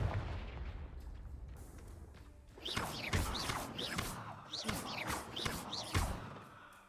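Confringo blast spells in Hogwarts Legacy, a rapid series of sharp, whooshing explosive bursts after a quieter lead-in, firing in quick irregular succession.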